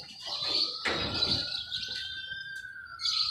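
Birds chirp and call near rooftops, with bright tweets, a brief flurry and a long thin whistled note, fairly close over light background noise.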